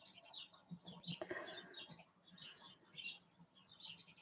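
Small birds crowding into a buddleia hedge, soft high twittering and chirping chatter in irregular bursts, faint and somewhat distant, with a brief knock partway through.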